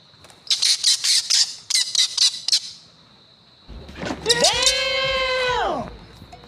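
A bird caught in a snare trap squawks loudly nearby in rapid harsh bursts, then lets out a long, drawn-out bleating cry.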